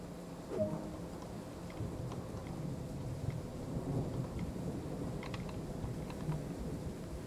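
A thunderstorm in a train simulator game brings steady rain hiss with low rolling thunder rumbles, plus faint scattered ticks and clicks, moderately quiet throughout.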